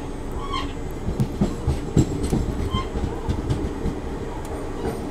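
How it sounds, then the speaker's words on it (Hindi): The 22160 Chennai Mumbai Express at Yerraguntla Junction at night, a low rumbling train with rhythmic wheel clanks and scattered knocks, fairly close, with faint distant voices and whistles. "रात के अंधेरे में ट्रेन अपनी आके खड़ी हुई है येरागुंडला जंक्शन में"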